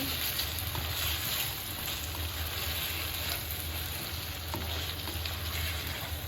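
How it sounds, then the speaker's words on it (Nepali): Meat fries in a pan with a steady, loud, dense sizzle as it is stirred, a continuous hiss with faint scraping underneath and no talking. "अब मासुलाई मजाले चलाउने।"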